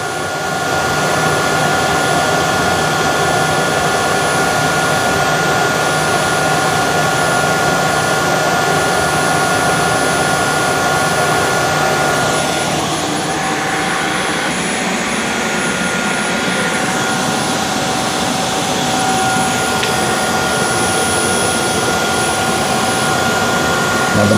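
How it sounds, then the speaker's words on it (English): Tineco Floor ONE Stretch S6 wet-dry vacuum running its heated drying cycle with the brush roller spinning: a steady, loud, continuous whirring blower drone with a high whine, holding constant and dipping slightly partway through. "Heated drying is about to take 5 minutes."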